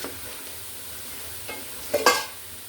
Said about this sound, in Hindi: अब इसको अच्छी तरह से भून के फिर दिखाती मैं आपको